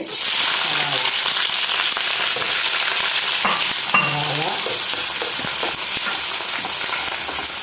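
Green chilies and curry leaves crackle and sizzle loudly in hot oil with fenugreek seeds for a Kerala-style potato curry, a dense continuous fry close up with a few stirring scrapes.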